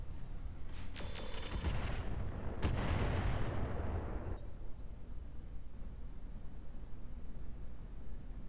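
Artillery barrage in Roguetech, a cluster of sharp blasts followed by a roaring rumbling explosion swelling and fading over several seconds, then quieter ambient hum with small ticks, no talk.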